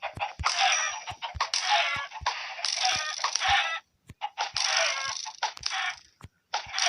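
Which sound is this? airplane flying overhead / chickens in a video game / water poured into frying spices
chickens in a video game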